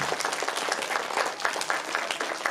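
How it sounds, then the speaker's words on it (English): A school audience applauds student authors at a children's book showcase, a dense, steady patter of many hands clapping at close range, sustained throughout without a break. "Let's give them a round of applause."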